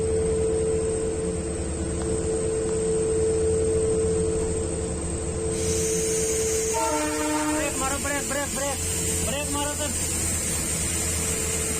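A train rumbles with a steady low hum and droning engine, then a horn or brake squeal warbles repeatedly near the end.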